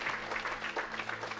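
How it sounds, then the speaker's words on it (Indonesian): Audience at a church worship night clapping, a short steady burst of applause filling the room. "Kasih tepuk tangan dulu buat teman yang biasa"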